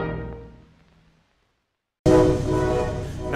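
A movie train's whistle, a fading tonal blast followed by silence, then a second loud, sustained chord-like whistle blowing close and clear.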